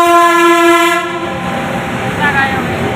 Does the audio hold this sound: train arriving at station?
yes